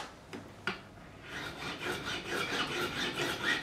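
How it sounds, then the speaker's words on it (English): A profiling file is drawn by hand over stainless steel frets on a Warmoth guitar neck, a close rhythmic rasping that starts after two sharp taps and continues steadily, with no talk. "We're going to take the profiling file,"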